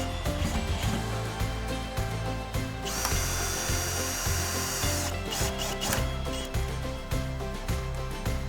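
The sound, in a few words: power tool fixing hinges to folding workbench legs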